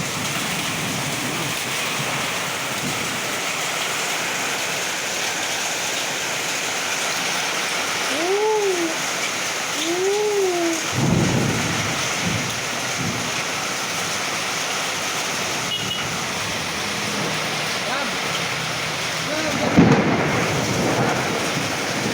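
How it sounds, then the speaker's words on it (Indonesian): Heavy rain and gusting wind roar steadily through a hailstorm in Kampung Sawah, Bekasi, a dense continuous wash with brief rising tones and a sharper crack near the end. "Hujan batu es, Pam."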